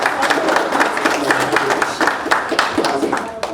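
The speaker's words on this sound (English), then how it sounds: "So please give the panelists a round of applause." Audience applause for a panel at a fan convention's horror discussion, a steady, moderately loud patter of many hands clapping throughout, with some crowd noise mixed in.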